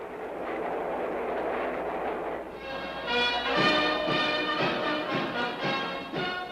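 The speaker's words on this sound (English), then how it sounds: "A train with several private cars carries the Emperor and his official party swiftly to Washington" A private train carrying an emperor's official party runs swiftly toward Washington, D.C., a steady rolling rumble with rhythmic clicking and metallic rattles building in the second half.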